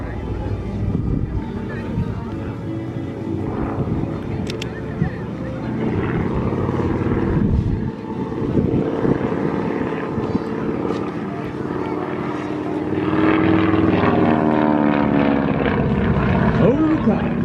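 A Stearman 123 biplane with a gravity-fed carburetor flies aerobatics at the Flying Circus Airshow in Bealeton, Virginia, its radial engine droning and faltering unevenly from a distance while people talk over it.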